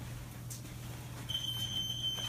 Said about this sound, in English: The smoke alarm's going off.